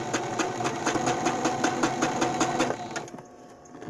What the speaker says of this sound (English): making sure that when you sew, you're not going to be over here sewing in the wrong spot.